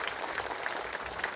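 An audience claps at a religious discourse during a Shrimad Bhagwat katha, with faint, evenly spaced claps in a brief rhythmic patter.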